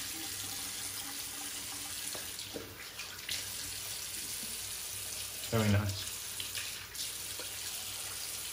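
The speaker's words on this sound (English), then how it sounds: "Let's get some water on the face." A tap runs steadily as water is splashed onto the face during a wet shave, a continuous close hiss with a few louder splashes, and a voice briefly speaks over it.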